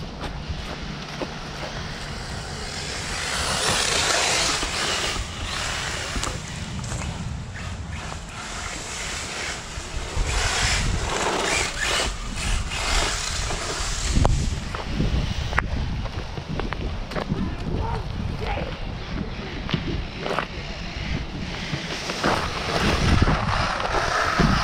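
An Arrma Typhon RC buggy runs at full throttle, a steady, loud mechanical roar mixed with gusty wind noise that swells and surges over about twenty-five seconds, with no clear talk.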